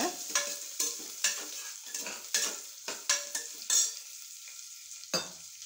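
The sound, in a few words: sautéing onions and vegetables in a pan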